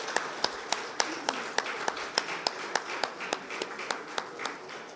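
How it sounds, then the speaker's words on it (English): Scattered audience applause at the ICEMA annual session, a steady series of separate claps from a few people over several seconds, moderately faint with no voices over it. "big round of applause, ladies and gentlemen."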